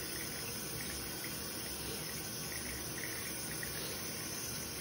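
Tap water runs steadily into a sink while hands are rinsed during handwashing, producing a constant, fairly faint hiss with no talking.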